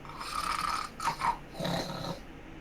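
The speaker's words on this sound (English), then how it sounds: "passed out in the chair once more, snoring away" An elderly woman slumped in a sitting-room chair snores softly, with a few drawn-out raspy breaths and short snorts close by and no other sounds.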